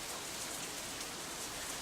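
Steady rain from the video game Katawa Shoujo, an even, continuous hiss of falling drops on surfaces, soft and unbroken throughout with no voices.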